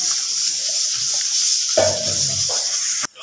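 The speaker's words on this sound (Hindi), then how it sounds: "अब हमने जो पकौड़े हैं अपने फ्राई करने शुरू कर दिए हैं" Pakoras frying in hot oil for an iftar meal, giving a steady bright sizzle throughout with a denser bubbling burst midway, close and fairly loud, with a brief stir at the end.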